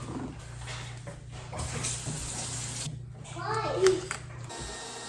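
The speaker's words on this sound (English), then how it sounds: "I'm just gonna grab a couple of these apples, give them a wash" Apples rinsed under a running kitchen tap give a steady, close rush of water with a few louder splashes near the end, while faint voices murmur in the background.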